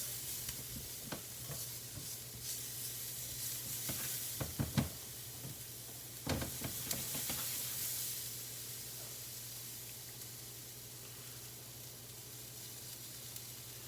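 Garlic sizzles gently in a pan over chicken fond left from searing chicken breast, a steady close hiss with a few scraping stirs and clicks in the middle, quiet and without talk.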